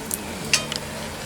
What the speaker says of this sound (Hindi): हमने इस एग भजिए की रेसिपी को मीडियम फ्लेम में फ्राई किया है।